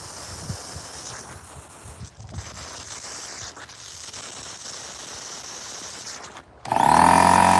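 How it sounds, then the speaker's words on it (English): An air compressor recharging after blowing out lawn sprinklers: quiet handling noise, then near the end a loud, steady motor roar starts abruptly and runs on. "We'll recharge the compressor."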